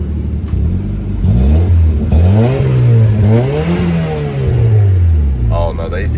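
A worn $500 Honda Civic engine with the AC on and its belt squeaking, revving up and down in smooth swells, loud and close, with a few brief high-pitched chirps over the engine drone.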